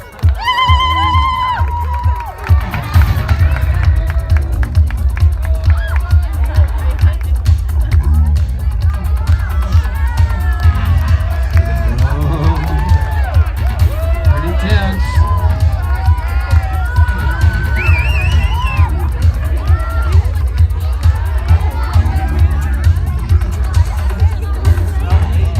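A crowd cheers and shouts continuously during a hot chili pepper eating contest in Keremeos, BC, with loud overlapping voices and whoops filling the whole stretch under a noisy rumble.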